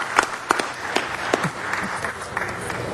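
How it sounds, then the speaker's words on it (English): Scattered clapping from a small crowd at a city council meeting, with sporadic claps and murmuring over a steady room hum, fairly faint and thin. "Let's give him a round of applause"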